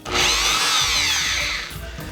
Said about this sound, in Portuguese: e ligo a minha furadeira